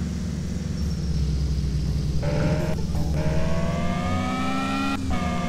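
A steady car engine drone from the video game Car For Sale Simulator, droning continuously and shifting pitch as gears change, loud and without any talking.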